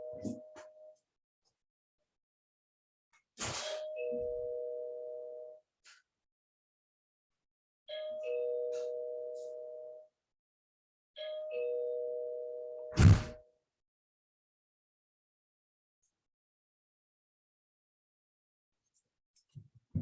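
A broken doorbell sounds in three separate buzzing bursts of about two seconds each, with a sharp click or knock near the end of the last burst and silence between the bursts.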